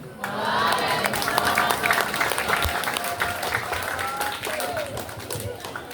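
Audience at a student election candidate debate applauding the first candidate pair, heard as loud sustained clapping and cheering from a crowd that builds quickly and slowly fades, with voices mixed in.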